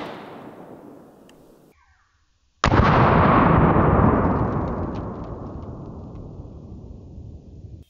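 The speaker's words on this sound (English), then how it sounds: "I've always wanted to shoot an AR pistol like this." Two sharp, loud blasts from an AR pistol firing .223 rounds, the second followed by a long ringing decay outdoors.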